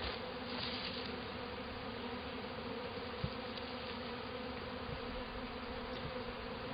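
Honeybees swarm around an opened hive during a spring check, a dense, continuous buzzing hum that fills the whole stretch at moderate distance, with no voices.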